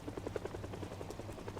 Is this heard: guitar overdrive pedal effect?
no